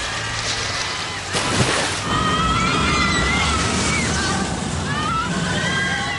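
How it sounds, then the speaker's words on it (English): Boats and splashing water from a water ski show at SeaWorld play as a steady, loud wash of engine rumble and sloshing surf. A narrator talks continuously over the top. "At SeaWorld, you can see spectacular water ski shows."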